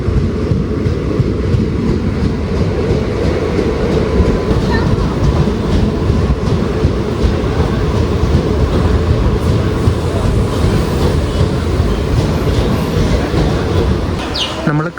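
A passenger train on the Kerala line nearing Kannur station, a loud continuous rumble with rhythmic clickety-clack of wheels over rail joints, steady for the whole stretch.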